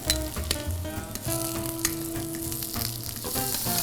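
Garlic and rosemary sizzle steadily in a frying pan, a close, continuous crackle with small bursts and spits, no voices over it.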